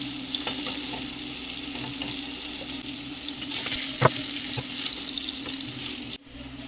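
Pointed gourd slices fry in oil in a pan, a steady close sizzle with faint clicks of stirring and one sharper clatter, no voices.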